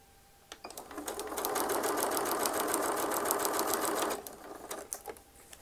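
A sewing machine runs a steady burst of stitching along a quilt block seam, a close, loud, even whirring rattle lasting about three seconds, framed by softer clicks and handling noises before and after.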